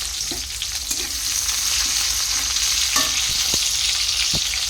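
Hot oil sizzles steadily as chopped onion and chilli fry, with a few light scrapes and clinks of stirring.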